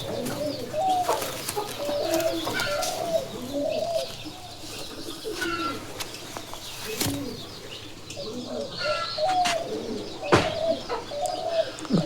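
Giribaz pigeons in a loft coo repeatedly in soft rolling phrases, several birds overlapping at close range with a few sharp clicks and rustles between calls.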